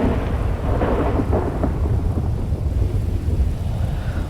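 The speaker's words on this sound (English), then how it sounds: "let's make it rainy because stormy it will be difficult for me to speak" Thunderstorm with heavy rain in the video game GTA 5, a steady, loud wash of rain with low rolling thunder rumbling throughout, no voices.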